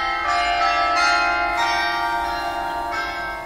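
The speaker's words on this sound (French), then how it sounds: "Mon propre carillon qui sonne les 13 heures qui m'a foutu la flip." A home chime clock strikes one o'clock, its ringing bell-like tones sustained and layered, with fresh strikes partway through, fairly loud and clear with no talking over it.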